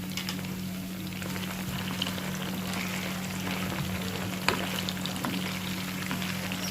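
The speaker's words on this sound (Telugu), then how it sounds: "ఫ్రై అవుతున్నాయి కదండి ఇవి." Prawns frying crisply in hot oil, a steady dense crackle and bubble that stays even throughout, with a faint low hum underneath and no voices.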